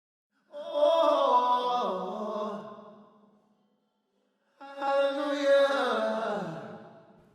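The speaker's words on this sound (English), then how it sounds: "That's just the delay without the main vocal." A soloed slap delay of a lead vocal, fed into reverb in Logic, is heard with no dry voice: two washy, echoing vocal phrases, each swelling and trailing off into a soft reverb tail, separated by a short silence.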